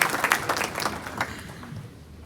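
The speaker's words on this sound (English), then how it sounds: "A round of applause for Brent." Audience applause at a Zimbabwean business gathering addressed by the finance minister, a dense burst of clapping that starts loud and steadily thins and fades over about two seconds.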